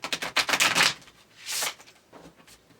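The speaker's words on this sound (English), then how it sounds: "So I'm going to charge them up 3 times, shuffling" Tarot cards are shuffled by hand in a quick run of crisp riffling flicks, then a second shorter burst and a few soft taps, close and clear with no talking.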